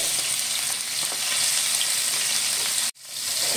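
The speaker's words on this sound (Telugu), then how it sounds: "ముందు పన్నీర్ ముక్కలు ఫ్రై చేసుకుందాం." Small paneer pieces fry in hot oil with a dense, steady crackling sizzle close by, broken once by a sudden brief dropout before the frying resumes.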